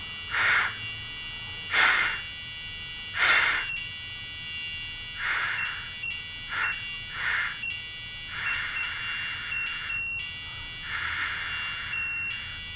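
An Arduino-driven speaker buzzer with its tone shifting as the input value changes around a low threshold, giving a run of loud, shrill electronic beeps: short bursts at first, then longer, wavering tones at varying pitch, with no talking.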